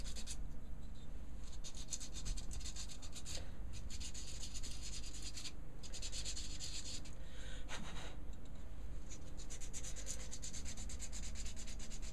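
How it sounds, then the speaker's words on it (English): Sandpaper rubs by hand across the base of a turned wooden piece, producing a continuous dry scratching hiss with repeated back-and-forth strokes, close and steady, under a constant low hum and without speech. "I'll just give it a quick rub with 120, 240 and 400."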